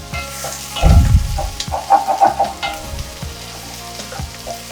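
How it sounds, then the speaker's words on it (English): Onion sizzling and frying in a pot while being stirred with a few scraping strokes, loud and close, with no talking. "now I'll wait a little bit for the onion to cook slightly more"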